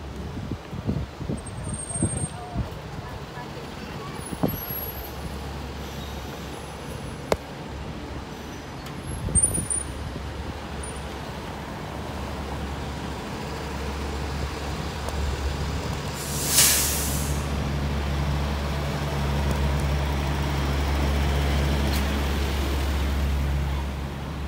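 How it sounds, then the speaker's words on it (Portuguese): Tow truck hauling a car along a busy Miami Beach shopping street, its engine a steady low rumble building over the second half amid passing road traffic, with a brief hiss partway through. "O guincho levando um carro, galera."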